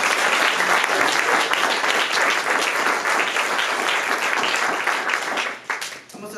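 Wedding guests applauding during the ceremony for Oscar and Glendy, dense lively clapping held for about six seconds, with voices faintly mixed in, before it thins and dips near the end.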